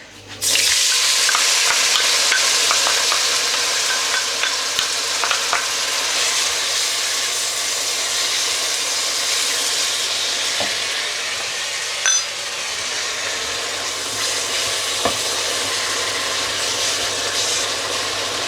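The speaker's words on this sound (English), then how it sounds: "And then we're going to add the onions into this and cook them until they're nice and soft and translucent." Onions fry in hot oil in a pot for a yogurt curry, a steady, fairly loud sizzle that bursts in at the start and hisses on, with an occasional clink of a spoon stirring the pan.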